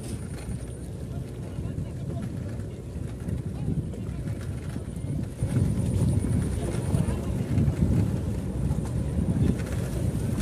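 A speedboat on the swollen Jamuna river produces a steady low rumbling drone with heavy wind buffeting that grows louder midway, while a voice talks underneath.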